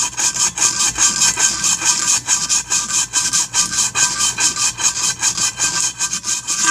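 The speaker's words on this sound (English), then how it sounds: "Now I have to bevel the sides too" Rhythmic, loud abrasive strokes of a file or rasp beveling the sides of a rear fender blade for a BigDog motorcycle, steady back-and-forth scraping repeating several times a second throughout, with no talking.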